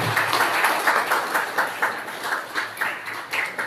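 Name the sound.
audience applause during felicitation ceremony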